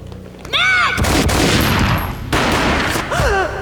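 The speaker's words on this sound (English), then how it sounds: "A gunshot boomed and she fell down in slow motion." Gunfire in the video game Max Payne: a loud burst of shots breaks in abruptly and carries on for more than a second, followed by a second dense blast, with a few brief vocal sounds near the start and end.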